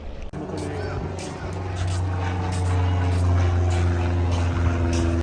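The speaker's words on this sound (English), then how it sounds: "And there goes the light aircraft." A light aircraft passes over Alcudia Beach in Mallorca, its steady droning engine hum growing slightly louder and holding through the clip against faint background beach sounds.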